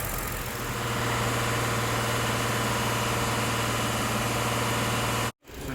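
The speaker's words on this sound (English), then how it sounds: "So now we have the engine idling, and we're going to do the vacuum test" A car engine idles steadily during an engine vacuum test, giving a constant low hum with a broad mechanical rumble at close range. It cuts out briefly just before the end.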